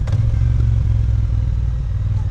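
A Triumph Bonneville T120 1200cc motorcycle pulls hard in second gear, its engine a loud, steady, close-up drone with rushing wind throughout.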